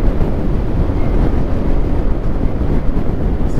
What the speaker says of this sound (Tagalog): Sumisipol yung hangin.